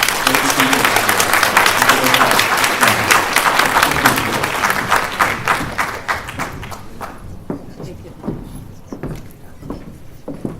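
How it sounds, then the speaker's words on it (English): An audience applauds a tech talk panel with dense, loud clapping that thins out over several seconds into scattered individual claps. "I would like to applaud to this exciting panel"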